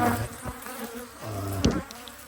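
Aggressive honey bees swarm around a beekeeper near a very defensive Layens hive, their dense buzzing steady and close throughout, with a few louder passes as individual bees fly near.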